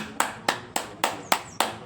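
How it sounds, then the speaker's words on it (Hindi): Hand clapping done as an acupressure exercise in a yoga routine: seven sharp, evenly spaced claps sound close and loud at a brisk steady pace, with no talking. "एक बार ताली से कर लेते हैं।"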